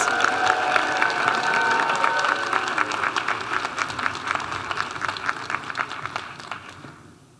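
A crowd claps for the Asian and Pacific Islander class of 2025 bachelor's graduates at a graduation celebration, a dense sustained ovation with some cheering that fades away at the end.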